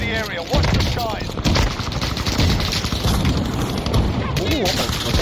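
Rapid bursts of automatic gunfire and explosions fill a PlayStation 5 shooter match, dense and continuous, with game voice callouts and player chatter mixed in.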